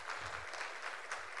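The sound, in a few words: congregation clapping hands for the Lord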